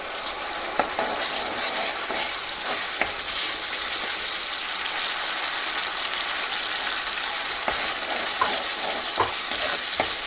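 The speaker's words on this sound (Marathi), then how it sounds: "मसाला छान फ्राय करून घ्यायचा आहे।" Ground masala paste of roasted onion, coconut, garlic, ginger, coriander and whole spices frying in a pan, a steady close sizzle with occasional stirring scrapes and small pops throughout, no voices.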